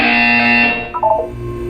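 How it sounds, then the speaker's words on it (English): A buzzer sounds in the video game Portal 2. It is a loud, harsh, distorted electronic drone held for under a second, followed by a short warbling electronic tail. "You will hear a buzzer. When you hear the buzzer, look up at the ceiling."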